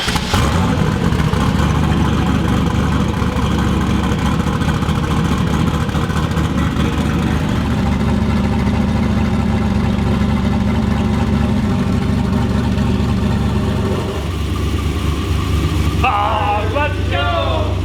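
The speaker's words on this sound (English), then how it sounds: "engine sounds amazing. You can hear the cam back." A Volvo sleeper car with a new exhaust and intercooler setup rumbles and revs nearby, a loud, deep, continuous engine note with rising and falling revs, while people talk excitedly over it.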